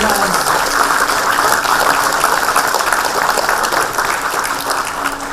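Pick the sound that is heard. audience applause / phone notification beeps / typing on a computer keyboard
audience applause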